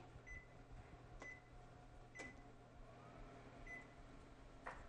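Microwave oven running to melt chocolate: a low, steady electrical hum with a few faint, evenly spaced beeps over almost five seconds, no talking.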